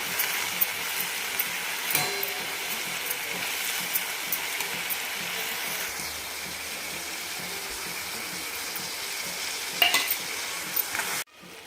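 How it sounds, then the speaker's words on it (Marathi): Spring onion greens being stirred with coarsely ground garlic paste in a hot pan, a steady sizzle with scraping stir strokes throughout, fairly close and moderate in level, no talking. "थोडंसं लसूण टाकून वाटून घेतलेला आहे थोडंसं असं जाडसरच वाटून घेतलेलं आहे हे टाकून घेते मिक्स करून घ्यायचं चांगलं"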